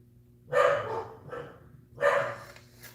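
A dog barks in loud bursts, a couple of close barks followed by a quieter one, then another strong bark, with a low hum beneath.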